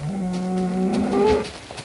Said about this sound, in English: there's a cow on a tree